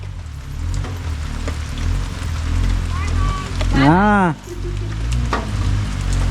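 Heavy monsoon rain on the Konkan coast pours steadily as a broad, continuous hiss throughout, while a voice talks briefly and a rising-falling whistle or horn sounds midway.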